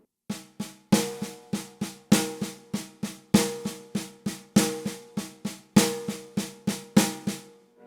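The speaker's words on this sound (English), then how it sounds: "another way that I use this is by playing a paradiddle, a reverse paradiddle" A drum kit plays a reverse paradiddle sticking with accents on the offbeats. Crisp, even hits repeat in a steady, driving pattern, with louder accented strokes recurring regularly over the eight seconds.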